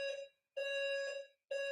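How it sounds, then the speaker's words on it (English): Building fire alarm sounding in repeated electronic beeps, each a bright steady tone about half a second long separated by short gaps, moderately distant indoors. "building fire alarm is actually going off right now"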